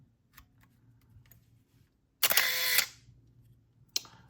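A Canon T50 film camera's loading mechanism operates in a quiet room with a single loud mechanical whir lasting about half a second, then a sharp click shortly after, among faint ticks and handling noises.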